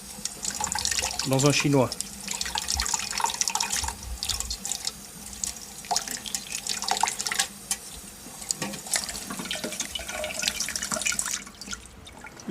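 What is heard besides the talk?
cold water running from tap while peeling eggs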